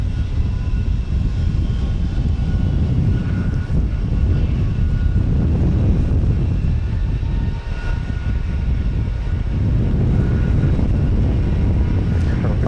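An Aeromexico Boeing 737 MAX 9 jet taking off at Houston Intercontinental Airport, a loud, steady, broadband engine roar that fills the whole stretch without fading, heard from nearby.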